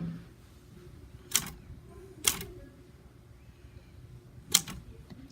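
Three sharp, well-spaced clacks of typewriter keys being pressed, close and crisp, with quiet room noise in between.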